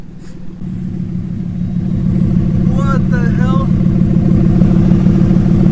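An impounded car's engine, with its exhaust pipe close by and about 218,000 on the odometer, turns over and settles into a loud, steady rumble that grows louder, with a person briefly exclaiming over it.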